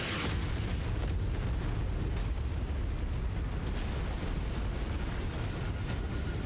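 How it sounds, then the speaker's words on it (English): Bombardment in MechWarrior 5 rumbles as a loud, unbroken roar of explosions and blasts, dense and heavy throughout with no pauses. "No, stop bombarding me, I need to loot!"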